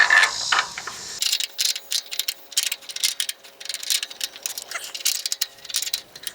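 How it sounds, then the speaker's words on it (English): Rapid ratcheting clicks from a tool loosening a bracket on a gate during a 1930s farmhouse renovation, a busy, close run of metallic ticks lasting several seconds. "So what I'm going to do is loosen the bracket here."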